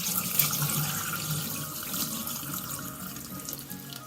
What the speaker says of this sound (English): I'm gonna rinse that out.